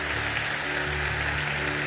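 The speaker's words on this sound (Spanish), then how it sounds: "Damos un aplauso al Señor" A church congregation applauds during a sermon, a steady, even wash of many hands clapping at moderate loudness with a low hum running underneath throughout.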